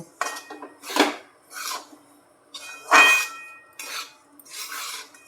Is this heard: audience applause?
no